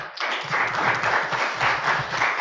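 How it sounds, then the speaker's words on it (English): A conference audience at the ICA Manipal Regional Hub 2023 event breaks into dense, continuous applause, many hands clapping at once at moderate loudness for a couple of seconds, with no speech on top. "Let's give him also a big applause."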